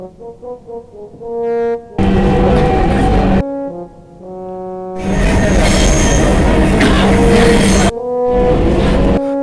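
Dhaka metro train at a station platform: loud roaring surges of rail noise broken by quieter gaps, with steady humming and whining motor tones carrying through the whole stretch.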